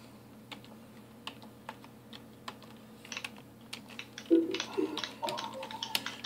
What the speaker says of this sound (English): Justin, are you typing?